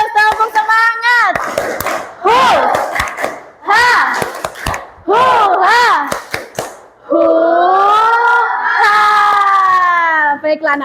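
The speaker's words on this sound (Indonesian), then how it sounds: "kita tepuk semangat dulu biar gak lemes. Tepuk semangat." An elementary school class doing a rhythmic 'tepuk semangat' clapping chant: bursts of patterned hand claps alternate with children's sung and chanted calls, ending in a long sustained group shout, close and loud.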